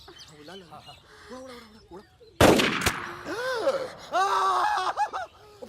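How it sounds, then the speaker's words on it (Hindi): One sudden, loud gunshot cracks out midway through, between stretches of excited, shouting voices. "गोली चल गई।"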